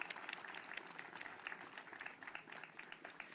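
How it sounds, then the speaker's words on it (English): Applause from a crowd at an outdoor Veterans Day ceremony in Moreno Valley, a soft, fairly distant wash of clapping that continues steadily with no speech over it. "So let's give them a round of applause as well."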